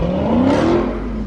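A car engine revving loudly and close while the driver downshifts, a strained rising whine that holds for about a second before dropping off.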